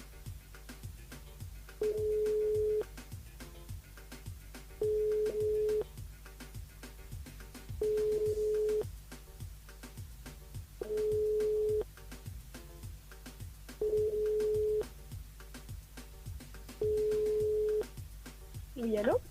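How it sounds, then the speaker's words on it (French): Telephone ringing tone on an outgoing call to a radio station switchboard, heard as six evenly spaced steady beeps about three seconds apart over a busy background hum. "Il appelle Olivia sur le standard."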